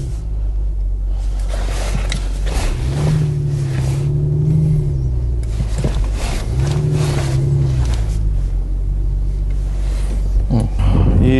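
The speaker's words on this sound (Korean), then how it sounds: "그래서 스포츠 배기도" Deep, throaty sports exhaust rumble of an Audi RS5 Sportback in RS mode, swelling and settling as the revs rise and fall, loud and close, with brief speech sounds in the background.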